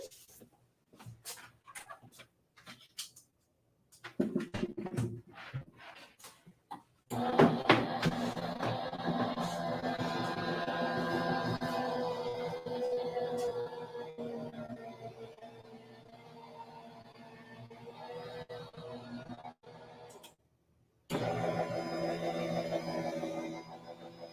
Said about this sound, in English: So I'm just going to run through my Go Power and Emboss machine.